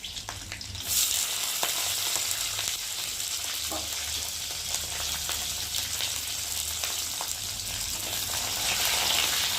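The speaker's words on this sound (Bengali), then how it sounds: "আর দেবো কাজু কিশমিশ, একটু ভালো করে ভেজে নেব। এবার দিয়ে দেবো ক্যাপসিকামগুলো।" Cashews, raisins and capsicum fry in hot oil for fried rice, a steady close sizzle throughout with occasional faint stirring taps.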